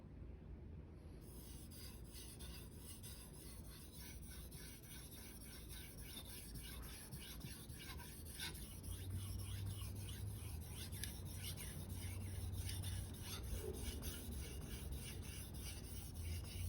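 A Shirogami bunka knife rasps steadily against a Rika 5000 whetstone in continuous back-and-forth strokes, close and even, with no talking.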